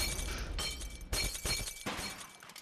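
Glass shattering repeatedly in the video game Happy Wheels, several bright crashing breaks in quick succession, each with a crisp, tinkling burst.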